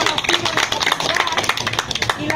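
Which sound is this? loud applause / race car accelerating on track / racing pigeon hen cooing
loud applause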